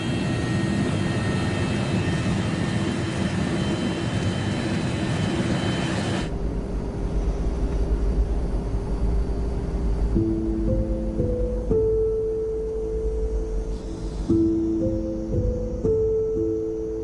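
Airplane engine roars steadily and loud through the first six seconds as the aircraft prepares for an emergency landing, then gives way to a quieter low rumble with tonal beeps and hums.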